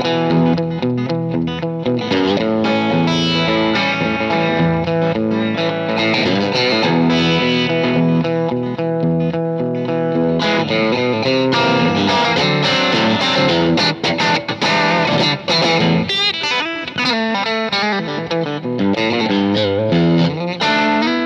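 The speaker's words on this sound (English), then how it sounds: "It has this big, huge twang tone, the kind of authority you want from a maple Stratocaster." A 1957 Fender Stratocaster maple-neck electric guitar played continuously with a driven, distorted tone from the bridge pickup, loud and steady chords and notes with no talking.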